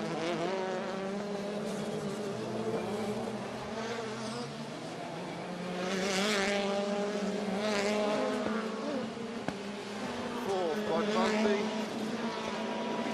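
A WTCC touring car laps the Vila Real street circuit in Portugal, its engine a steady, close, high-revving drone with pitch rising and falling through gear changes and corners, continuous throughout.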